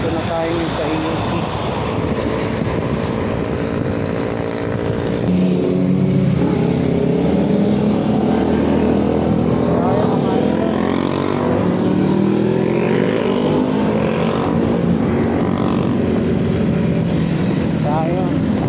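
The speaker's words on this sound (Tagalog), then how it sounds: "Traffic oh." Road traffic heard while riding through congested streets after work, a continuous engine rumble and passing vehicles with rising and falling revs, loud and close, with people talking over it.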